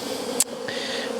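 Honeybees buzzing faintly as they lift out of a mite sampling container, a soft continuous hum with a brief sharp tap partway through.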